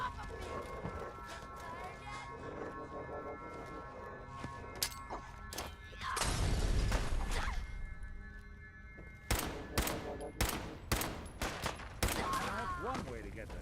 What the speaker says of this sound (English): He had a sniper rifle. 50 cal.